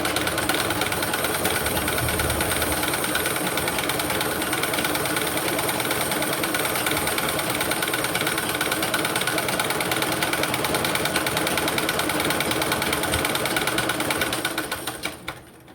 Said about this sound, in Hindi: मशीन को थोड़ा चलाना है, पैर से चलाते रहना है।